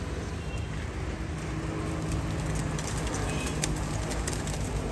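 Rampuri pigeons in a breeder's loft keep up a soft, continuous cooing murmur, moderately close, blended with steady ambient hiss and occasional light clicks.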